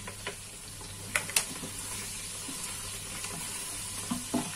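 Garlic and parsley frying with rabbit pieces in a pan for rabbit in garlic sauce, a steady soft sizzle with a few sharp clicks and stirring scrapes, close and fairly quiet, no voices.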